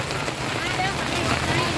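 Rain pours down steadily on an outdoor evening market, a dense even hiss and patter that stays constant, with voices mixed in.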